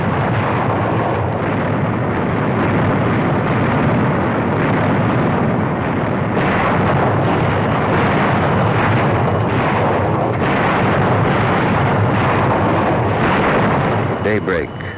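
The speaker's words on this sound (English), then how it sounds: "The naval bombardment continues." Naval bombardment before the D-Day beach landings at Normandy in 1944, with loud, continuous rumbling blasts and roaring booms filling the whole stretch without a break, heavy and dense throughout.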